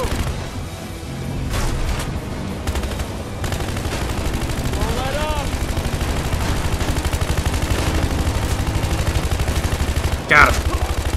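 Repeated gunshots and rapid bursts of automatic fire from Battlefield Hardline crack through a busy game mix, loud and close, with one sharper blast near the end.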